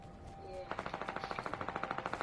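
SMG gunfire in Fortnite, a rapid burst of about twenty evenly spaced shots following a short quiet lead-in, sharp and fairly close.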